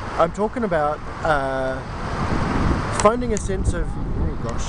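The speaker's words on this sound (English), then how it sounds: "it's windy now too. I wonder if you can hear me over this wind." Outdoor wind gusts roar and buffet the microphone in a steady rumble beneath someone talking close by.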